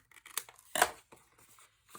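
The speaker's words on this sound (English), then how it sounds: "Then we're just going to come in with our scissors and trim out this corner" Scissors snip a corner off a paper piece for a slimline accordion folio craft project, giving a few short, close crisp cuts with one louder sharp snip in the middle and quiet pauses between.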